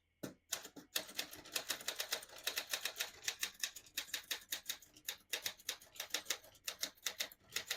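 Steady, brisk keystrokes on a 1949 Smith-Corona portable typewriter, with sharp close-up clacks in an uneven typing rhythm that runs on for several seconds, set against a quiet room with no voices.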